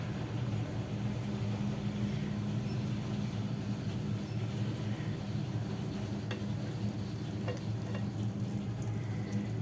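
Dosa batter cooks on a pan with a little ghee, giving a low, steady sizzle with a persistent background hum and occasional faint crackles.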